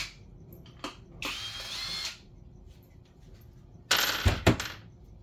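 A power tool zips off cam cover bolts on a Toyota V8 engine during a teardown, two short whirring bursts with clinks and faint metallic taps between, close and fairly loud.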